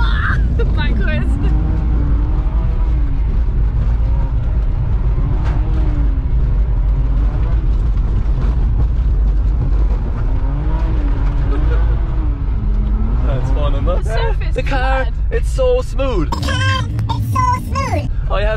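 A car drifting at a big sideways angle, its engine revving and rising and falling steadily underneath nearly continuous talking from the people inside, ending in a burst of louder commotion.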